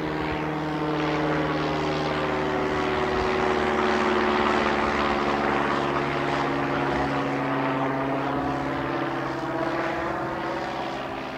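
A propeller airplane drones steadily overhead, its deep engine hum holding loud and constant throughout, swelling slightly in the middle and easing at the end.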